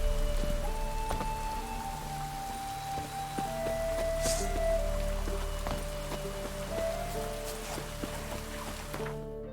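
Continuous heavy rain patters and splashes on surfaces in The Witcher 3: Wild Hunt, loud and steady, while sustained tonal music hums underneath throughout.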